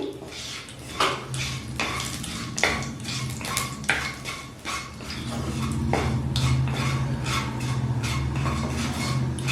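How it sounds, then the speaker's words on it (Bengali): Panch phoron and dried chillies fry in a pan as tempering for a raw-mango sour dal. A metal utensil clatters and scrapes in sharp knocks at first, then a steady sizzle takes over. "শুকনো লঙ্কার পাঁচফোড়ন সুন্দর একটা গন্ধ বেরোবার জন্য একটু ভেজে নিচ্ছি আমি।"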